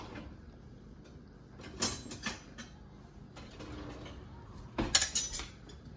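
Metal utensils clink and scrape against a pan while a South Indian vegetable masala powder mix, with lump asafoetida, is dry-roasted; a few sharp clattering strikes stand out over a quiet background.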